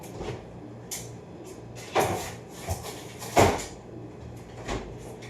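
A few soft thuds and clunks of a refrigerator door being opened and shut, spaced out over a few seconds with a low hum behind.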